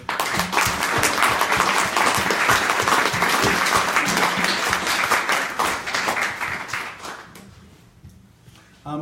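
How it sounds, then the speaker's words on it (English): An audience at a public talk on Islamophobia and national security in Canada breaks into loud, sustained applause, many hands clapping in a dense wash that gradually tapers off and fades near the end. "Maybe another round of applause"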